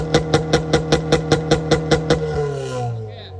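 A car engine runs during a smoke test, a close, loud, rhythmic chugging pulse of about a dozen even beats that then fades into a falling hum.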